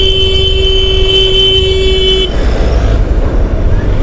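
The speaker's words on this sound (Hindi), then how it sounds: "पूरा ट्रैफिक जाम कर दिया है यार।" Traffic jam with a loud sustained car horn blaring for about two seconds over rumbling engines and road noise, then dense idling traffic continuing close by.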